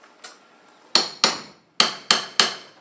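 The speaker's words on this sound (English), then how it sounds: "Kind of hammer it in there" A steel Stanley pry bar is hammered into an exterior wall during homestead building: five sharp, ringing metallic strikes in an uneven rhythm, loud and close, each fading quickly, with no talking.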